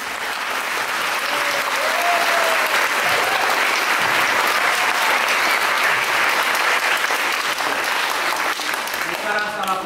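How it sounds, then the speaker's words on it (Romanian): A concert audience claps steadily before a Beauty and the Beast performance, dense sustained applause filling the hall with a voice speaking faintly underneath. "să aplaudați"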